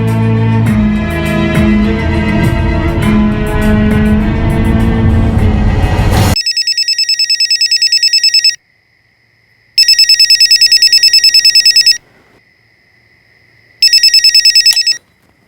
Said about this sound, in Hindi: सॉरी राहुल पुत्र, इतनी रात को फोन किया ना इसीलिए।